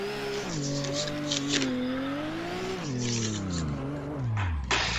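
Drift car at a D1NZ event on the Baypark track, engine note rising and falling continuously as the tyres skid and squeal through the layout, loud and close, with a sharp burst near the end.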